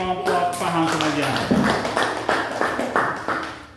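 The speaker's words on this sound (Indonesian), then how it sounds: "tepuk tangan dulu untuk kelompok paham semuanya" Schoolchildren in a classroom clap their hands for a group, a short burst of scattered claps rising over lingering voices and room noise, close and fairly loud.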